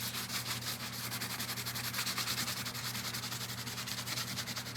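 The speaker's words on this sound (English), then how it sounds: "the high spots, it's going to take the paint off. And y'all, my poor sanding block has seen better days." Sanding block rubbed over a painted wood pumpkin sign, quick rhythmic back-and-forth scratchy strokes, close and fairly quiet, with no talk.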